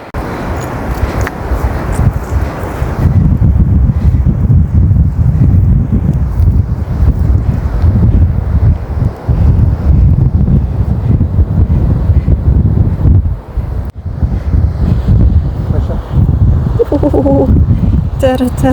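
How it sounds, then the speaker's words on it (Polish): Strong wind roars and buffets the microphone steadily for the whole stretch in Gazipaşa, Turkey, a loud, rumbling rush. "Ten wiatr jest okropny, wiecie."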